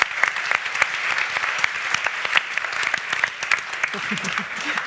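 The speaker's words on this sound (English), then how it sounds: "So now we give them an applause and feel welcome." Audience at a sustainable solutions event applauding to welcome Polarbröd: steady, dense clapping from a crowd for several seconds, with a brief voice near the end.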